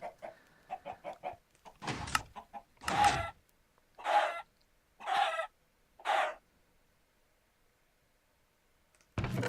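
Several chickens in a video game give a quick run of soft clucks, then four louder, evenly spaced squawking clucks, a long silence and one more loud cluck at the end.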